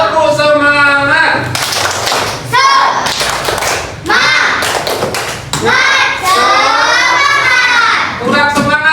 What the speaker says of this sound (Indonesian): Ayo, biar semangat kita tepuk semangat dulu.